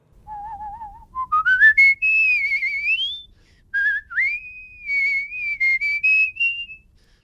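A musical whistler, a whistling champion, performs a clear solo melody: a low wavering opening, then bright rising and falling phrases with a short pause in the middle, close and unaccompanied.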